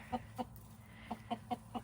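Chickens cluck softly in short, scattered bursts over a low background hum. Quiet and somewhat distant.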